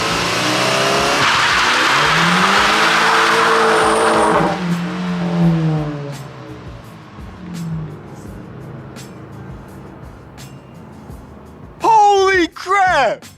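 A VW MK5 GTI accelerates hard, its engine roaring loudly up through rising revs with a tire squeal, then fading into the distance before voices break in near the end.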